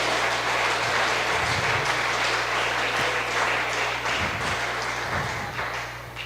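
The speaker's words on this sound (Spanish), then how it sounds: "¿Por qué no le da un fuerte aplauso a Él?" Congregation applauding during a Spanish-language church service, a broad continuous patter of many hands over a steady low hum, with a few louder thumps scattered through, fading slightly toward the end.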